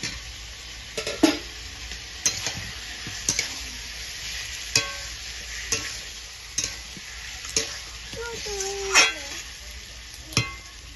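Chicken and potato pieces sautéing in a pan, with a metal spatula scraping and stirring in sharp, irregular strokes about once a second over a steady, close sizzle.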